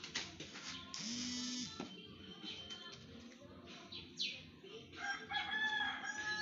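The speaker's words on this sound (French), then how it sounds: "c'était votre dernier chant de Cocorico là-bas" A rooster crows once in a drawn-out, fairly faint call, followed by scattered clucks and soft background noise.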